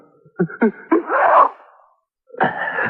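An old radio drama sneeze: a character snorts through two or three sharp intakes, then lets out a loud, drawn-out sneeze, followed after a pause by another breathy sneeze starting up, close and alone.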